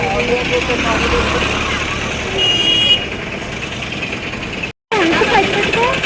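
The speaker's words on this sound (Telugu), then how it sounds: "కార్లు చూడండి ఎన్ని కార్లు ఉన్నాయో ఫుల్ రష్గా ఉంది" Heavy car traffic crowds the roads around the Vadapalli Venkateswara temple, a steady engine rumble with an occasional horn toot while someone talks over it.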